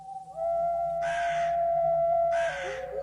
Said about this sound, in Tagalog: Hindi ko alam pero yung huni ng ibong wakwak paulit-ulit.